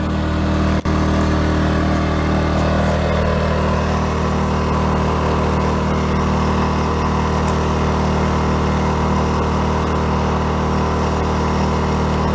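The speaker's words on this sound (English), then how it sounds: "See what happens to the generator." A portable generator runs with a steady, loud engine drone that holds evenly throughout, with one sharp click near the beginning and no voices.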